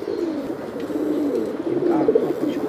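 Kagzi Makhe pigeons coo softly and continuously, with low, throaty rolling calls over a faint steady hum.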